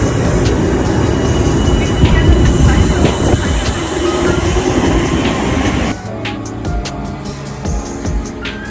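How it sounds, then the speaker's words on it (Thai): Loud, continuous rumble of a train rolling on rails near New York, with rhythmic clicking over the track joints; the noise drops somewhat toward the end. "นั่งรถไฟมานะคะ"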